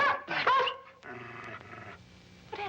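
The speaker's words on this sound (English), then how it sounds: "What happened to the dog? I'm afraid I hurt him." A dog in a 1953 film growls and whimpers in close, strained bursts, a low rumbling growl giving way to whiny, tonal cries before another short outburst.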